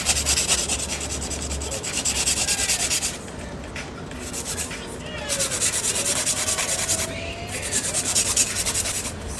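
Nails are filed briskly during a nail application, with steady close rasping strokes in bursts that pause briefly and resume, loud and alone.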